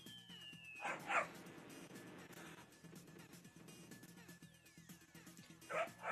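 A dog in an old-school video game barks and yips in short bursts over busy game sounds, fairly faint in the mix.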